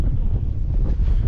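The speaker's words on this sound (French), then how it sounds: "Une petite brise file." Steady breeze on the summit of Mont Ventoux, rushing continuously across the microphone as a dense low rumble with no voices.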